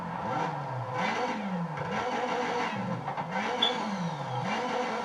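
A car engine in the Need for Speed video game revs repeatedly toward about 7,000 rpm, rising and falling in several sweeping pulls over a steady drone, with no talking.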